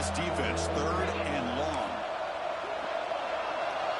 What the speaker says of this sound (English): This crowd is pumped up here in Birmingham.